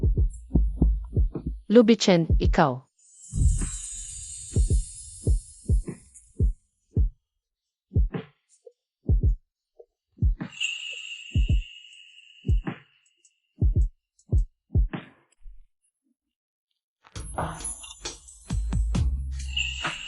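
A heartbeat sound effect in a Tagalog drama, a steady run of soft, low, close thumps in a slow even rhythm, with brief spoken lines and faint tones at the start and end.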